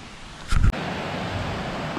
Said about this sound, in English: hear the waterfalls.